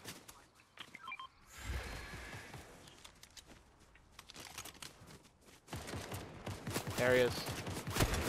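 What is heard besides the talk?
gunshots in a video game shooter match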